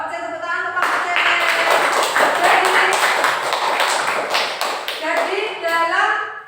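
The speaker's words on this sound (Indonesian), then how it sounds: "Tepuk tangan untuk kelompok C." Classroom applause for group C in an Indonesian primary school lesson: a burst of many hands clapping together, loud and close, with children's voices and speech over it.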